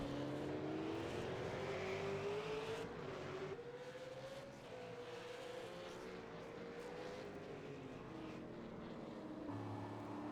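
V8 Supercar race cars lap Oran Park, engines droning and shifting pitch through the corners, heard from an onboard rear view with steady road and wind noise and no talk.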